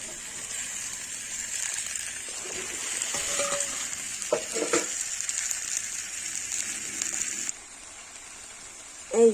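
Food stir-fried in a pan as salt, turmeric and spices are added, with a steady broadband sizzle and a few scraping stirs. The sizzle drops away near the end, then a brief clatter follows.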